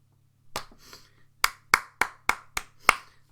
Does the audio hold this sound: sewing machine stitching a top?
no